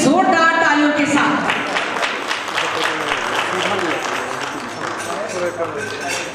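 Loud, sustained applause from an audience welcomes a dancer onto the stage at an International Women's Day event in Ranchi, continuing throughout with a voice and musical tones heard briefly at the start.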